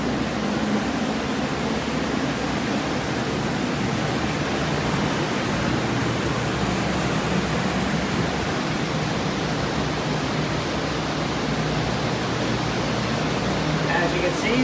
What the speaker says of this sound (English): We have air movement placed strategically to dry these areas out properly.